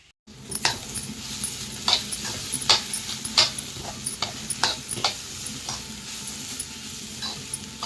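Carrots frying in a pan at a steady low sizzle, with a spoon or spatula scraping and clinking against the pan at irregular intervals.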